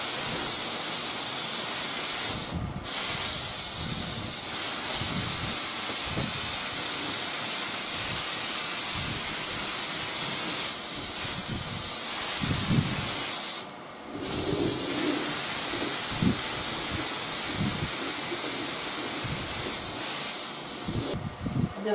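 Clear lacquer sprayed onto a restored, stained Philco console radio cabinet, heard as a steady, loud, continuous hiss running almost the whole time, broken by brief pauses between passes.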